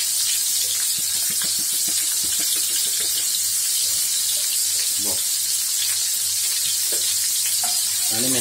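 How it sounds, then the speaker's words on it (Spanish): Garlic sizzles and fries steadily in oil in a pan while rice for the oven is prepared, with stirring scrapes throughout and brief talk in the background. "Sofreímos un poquito el ajito."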